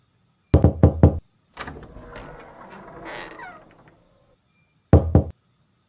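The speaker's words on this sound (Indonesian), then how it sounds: "suara ketukan pintu. Bunyi yang dihasilkan ketika kita mengetuk pintu." Knocking on a door, sharp knuckle raps in quick groups of four, then a pause with a cat meowing, and another short burst of knocks near the end, close and clear.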